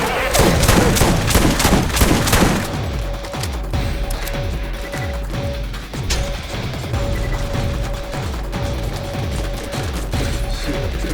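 Rapid, heavy bursts of video game gunfire dominate, a dense volley of repeated blasts at first, then a steadier run of loud rhythmic shots with mechanical clatter continuing to the end.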